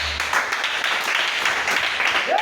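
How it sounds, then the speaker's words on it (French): A church congregation breaks into applause, a dense wash of many hands clapping at moderate distance, sustained for a couple of seconds, with some faint voices mixed in. "Acclamez très fort."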